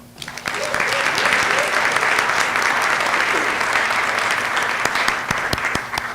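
A school board meeting audience applauds the Marching Tiger Pride band, steady sustained clapping that swells after a brief quiet start and holds evenly before tapering slightly at the end.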